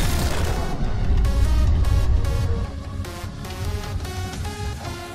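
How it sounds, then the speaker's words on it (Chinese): A bomb detonates in a film scene after a cargo truck crashes through a roadside fence and plunges off a bridge, giving a loud, deep, booming blast that rumbles and then slowly fades under music. "货车撞向路边的围栏，直接冲向桥下，炸弹瞬间引爆"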